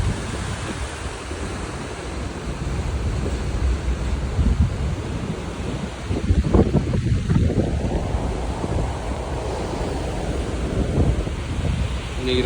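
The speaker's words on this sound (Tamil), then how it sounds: "அலையை பாருங்க எவ்வளோ வேகமாக வருது" Ocean waves rush and break against a cargo ship at sea, a loud continuous surging wash mixed with heavy wind buffeting, swelling midway through.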